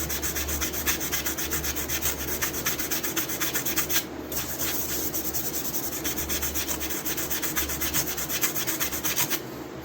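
Steady, close rasping of a scratch pad or brush scrubbing heavy patina and rust from metal, in fast continuous back-and-forth strokes with one brief pause midway.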